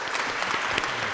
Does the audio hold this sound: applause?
yes